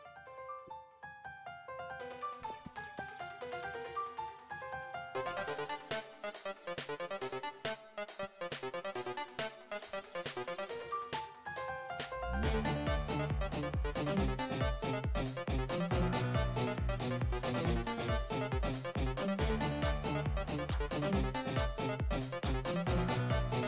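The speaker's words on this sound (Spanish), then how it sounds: "esta canción suena algo así." A song plays with no vocals, starting sparse and thin, then a full band with heavy bass kicks in about halfway and continues loud.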